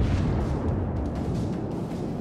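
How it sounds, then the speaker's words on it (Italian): A World of Warships battleship fires a full salvo of its main guns, a deep, rumbling boom that rolls on heavily for about two seconds, with no talking. "Diamo tutti i cannoni"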